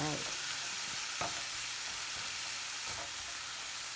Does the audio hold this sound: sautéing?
yes